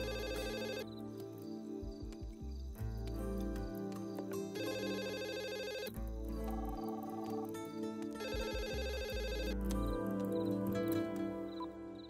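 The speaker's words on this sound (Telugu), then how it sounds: "ల్యాండ్ లైన్ ఫోన్ చేయన్నా" A landline telephone rings in repeated bursts with short pauses between them, clear and fairly close, with no one speaking.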